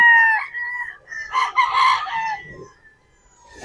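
A young gamecock crows loudly and close by, a long drawn-out call, followed by softer clucking and a sharp knock at the end.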